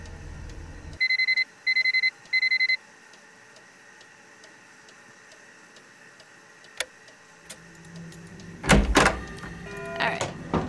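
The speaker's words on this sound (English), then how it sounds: "we're gonna set the alarm for midnight" A digital alarm clock in the Nancy Drew Curse of Blackmoor Manor video game, set for midnight, beeps in three short, sharp bursts. Faint ticking follows in a quiet room, then a few clunks and knocks.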